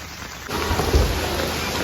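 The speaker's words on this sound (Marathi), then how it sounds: "आता पुन्हा वाढून गेलाय पाऊस" Heavy monsoon rain pours down, swelling abruptly after a brief quieter moment into a dense, loud, continuous hiss and patter with a low rumble underneath.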